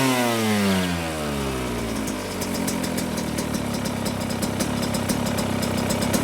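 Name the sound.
dirt bike engine idling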